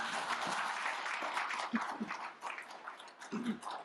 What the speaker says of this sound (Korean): 우리 모두에게 큰 박수 한번 쳐주실까요?